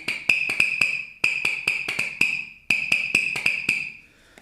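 A toy hammer squeaks with repeated sharp taps, each ringing briefly at a bright pitch, struck in quick clusters of four or five.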